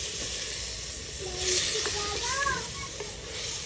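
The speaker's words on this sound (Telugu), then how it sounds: "చూసారా? మంచిగా బాయిల్ అవుతుంది." A country chicken curry boils in a clay pot over a traditional fire, giving a steady close hiss and bubbling with a few faint tonal sounds in the background.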